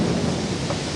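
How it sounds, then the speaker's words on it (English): A thunder crash from a documentary soundtrack, a loud dense rumble with rain-like hiss sustained through the whole short moment, with no voices. "That night, thunder and lightning crashed over Gordian."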